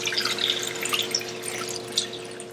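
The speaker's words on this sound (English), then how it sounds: "And all we're going to do is cover them with some water." Water running into a pot of whole oranges, a steady splashing tap-like pour lasting throughout, close and moderately loud with no talking.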